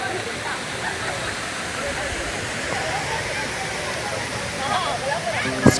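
A small waterfall in Vizag, Andhra Pradesh, roars as a steady broadband rush of falling water throughout, with faint voices of people in the background.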